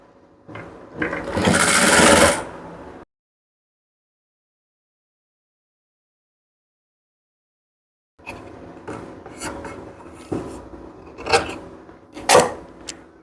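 Sewing machine stitching folded blouse fabric, with a loud run of stitching at first, then several seconds of silence, then a series of shorter uneven bursts of whirring and clicking mechanism.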